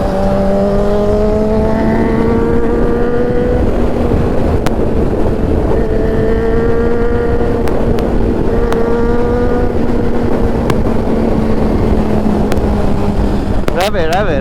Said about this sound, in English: I'm gonna ask him to rev it.